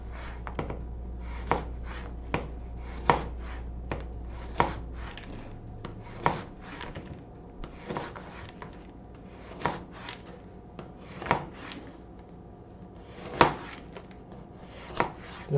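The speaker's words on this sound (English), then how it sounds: "the only thing I'm going to be doing is chopping it into little slices" A knife chops food into thin slices on a cutting board, each crisp tap landing at a slow, fairly even pace, close and clear, repeated over a dozen times with no talking.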